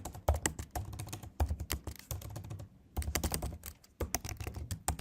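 Rapid keystrokes on a computer keyboard while code is entered, a steady close clatter of individual clicks in bursts with a couple of brief pauses, no voices.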